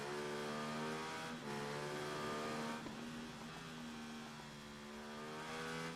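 Racing motorbike engine in the game Ride 3 holds a loud, steady high-pitched drone, with brief dips as the bike shifts or brakes before winding back up.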